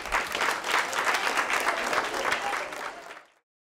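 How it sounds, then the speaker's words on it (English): An audience bursts into sustained, moderately loud clapping from many hands, steady and even, before it tapers off and drops to silence near the end. "We applaud you all today."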